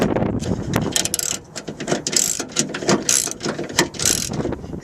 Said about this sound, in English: use your socket wrench and start tightening